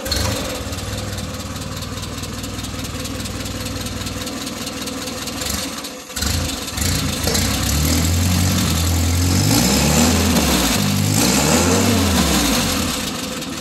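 The Willys Jeep engine of a 1944 Allis Chalmers M7 snowcat tractor cranks for several seconds, stumbles briefly, then catches and runs loud and close, revving up and down in repeated swells.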